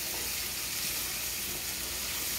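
Flour and hamburger mixture cooking in a pan for a hamburger potato casserole, giving a steady, close, loud broadband sizzle with no pauses and no voices.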